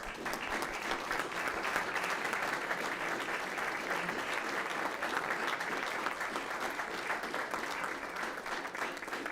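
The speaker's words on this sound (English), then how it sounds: "let's give them a round of applause as they enter the room" Sustained round of applause from an audience at a school district board meeting as basketball teams walk into the room, steady dense clapping filling the whole stretch with faint murmur beneath.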